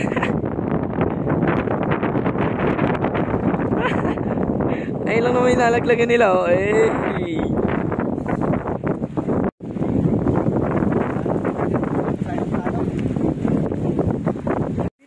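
Strong wind buffets the microphone outdoors in a constant roar that lasts the whole time, while a person speaks briefly partway through.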